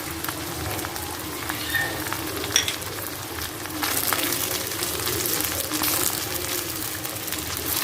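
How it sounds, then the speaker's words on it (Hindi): Chicken pieces frying with ginger garlic paste in a pan make a continuous close hiss and crackle that intensifies midway, with an occasional light knock of a utensil and no speech. "अच्छा सा हम इसको फ्राई करते हैं ताकि इसकी स्मेल भी ख़त्म हो जाए और कलर भी चेंज हो जाए।"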